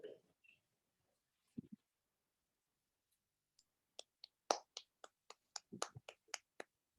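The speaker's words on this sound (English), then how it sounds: "Johanna's clapping. Anybody else want to clap?" A few people in a small gathering clap sparsely, a handful of sharp separate claps scattered at first, then a quicker ragged run of claps near and fairly faint.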